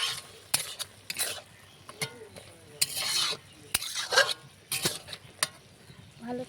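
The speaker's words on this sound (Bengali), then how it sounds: "এই যে কাঁচা লঙ্কাগুলো দিয়ে দেব, দিয়ে একটু ভালো করে নাড়িয়ে নেব" Green chillies are stirred into ridge gourd with poppy seed paste in a pan, making irregular scraping strokes of a spoon against the pan, each short and close, with faint sizzling between them.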